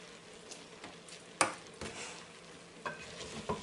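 One-pot pasta with minced meat in a multicooker gets stirred, a soft sizzling bed under several scraping strokes and a few light utensil clinks against the pot.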